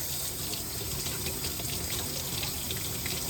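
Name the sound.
tap water running while washing eggs at sink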